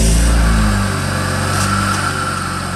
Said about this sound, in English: Right, so that's the car running.